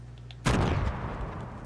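A single sharp hand cannon gunshot in a video game, loud and close, with a short decaying tail after the report.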